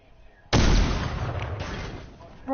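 A sudden loud gun blast in the Fortnite video game, a sharp onset followed by a booming tail that slowly fades, with no talk over it.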